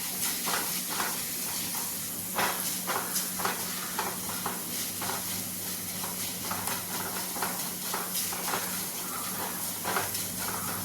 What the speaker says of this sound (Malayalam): നമുക്ക് സവാള ഇട്ട് നല്ലതുപോലെ ഒന്ന് വഴറ്റിയെടുക്കണം